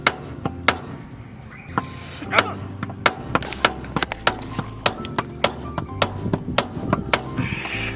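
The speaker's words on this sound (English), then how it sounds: "I got the mallet here and we're just gonna smack it right off" A mallet repeatedly smacks a suspension part on a lowered stance car, sharp wooden-sounding thunks and taps coming in an irregular series of close, loud hits.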